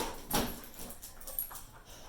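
Dogs indoors giving a few short whimpers and yips, faint to moderate bursts spread over a couple of seconds against a quiet room.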